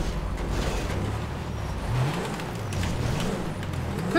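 In GTA 5 Online, the Surano sports car's engine gives a low, mellow burble, rising and falling briefly as it revs. It sits moderately close, with no talk over it.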